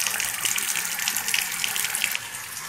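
Tap water runs in a steady, fairly loud gush while beef feet are washed beneath it, with slight splashing variations as the flow strikes them, easing a little near the end.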